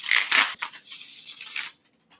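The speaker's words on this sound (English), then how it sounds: "I love shuffling this deck." A deck of cards riffled and bridged in one quick shuffle, a dense burst of papery flutter lasting under two seconds and then stopping, heard close with no talking.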